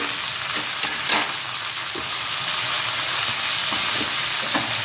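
Garlic fries in a pan for tomato mint chutney, giving a loud, steady crackling sizzle with scattered pops and stirring scrapes throughout.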